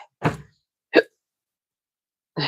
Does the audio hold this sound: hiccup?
yes